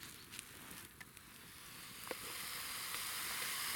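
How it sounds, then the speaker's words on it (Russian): Mushrooms frying in a pan on a wood-chip camp stove give off a steady, quiet sizzle and hiss that grows slightly louder, with a few small pops and crackles and no talk. "тогда грибочки будут поджариваться"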